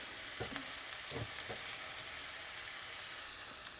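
Butter melting in a pan for brown butter sauce, a soft, faint steady fizz with a few light clicks and scrapes of utensils, no voices.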